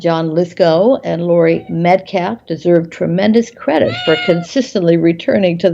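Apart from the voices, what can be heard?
cat meowing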